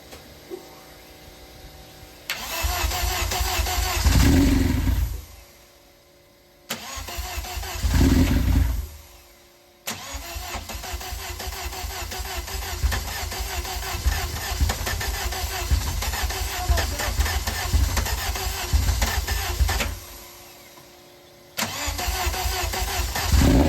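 A 1200 hp Vauxhall Corsa engine cranks and catches several times, surging loud and close, then settles into a long rough idle before another restart, with no voices.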